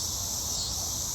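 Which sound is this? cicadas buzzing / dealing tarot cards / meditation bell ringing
cicadas buzzing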